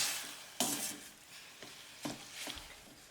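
Water is poured onto rice and tomato paste sizzling in a pot for Mexican rice, giving a burst of hissing sizzle followed by several scraping stirs, close and alone.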